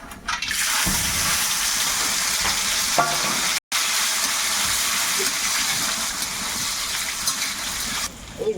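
Cashews and raisins are tossed into hot oil with garam masala and bay leaf, giving a loud, continuous, hissing sizzle with stirring scrapes. It is heard close up and runs almost unbroken across the clip with no talk.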